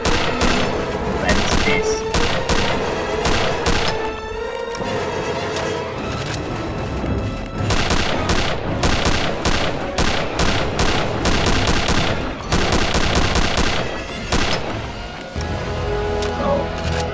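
Dense, loud gunfire in Return to Castle Wolfenstein, the Operation Deathshead level, with rapid automatic bursts and heavy blasts nearly throughout, a brief voice heard among the shots.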